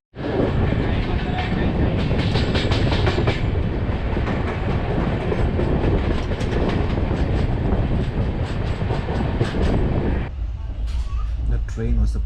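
A delayed passenger train in India, between Pune and Lonavala, rumbles loudly and continuously on its rails with rhythmic clickety-clack, and voices murmur faintly under the noise.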